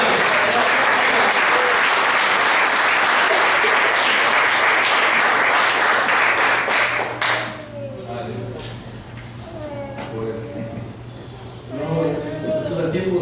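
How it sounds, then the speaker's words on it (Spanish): Loud, sustained congregation applause at a church service for about seven seconds, then it drops away as voices and murmuring take over, with a brief swell of clapping near the end. "Denle un aplauso."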